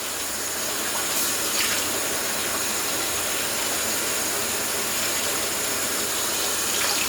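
Cold water runs steadily from a kitchen tap, a loud, continuous close-up hiss and splash without any speech.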